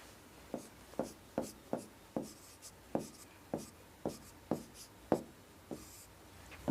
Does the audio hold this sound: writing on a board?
yes